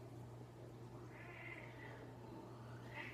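A shy kitten gives a couple of faint, short meows, one in the middle and one near the end, over a steady low indoor hum.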